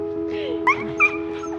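A relatively large shelter dog, about three or four years old, whimpers and lets out two short, sharp yips over a steady background hum, with a faint voice underneath.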